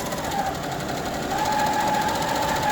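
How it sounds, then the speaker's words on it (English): A Barudan large-field single-head embroidery machine stitching a large single-color design at a trade show, giving a fast, steady mechanical chatter with a whining tone over busy hall background. "here we have Barudan's new large field size single head machine. It's currently running a very large single color design"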